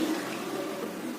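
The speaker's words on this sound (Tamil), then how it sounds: "அந்த தண்ணி இதிலே ஊற்றுறேன்" Water pours steadily in a continuous gushing stream into a pot of spinach soup, close by, with no pauses.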